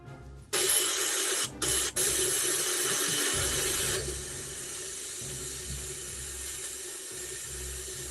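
Running water rinses cleaner through during the custom painting of a Star Wars Black Series figure: a loud, steady hiss of a tap close by, briefly interrupted twice, then continuing a little softer until the end.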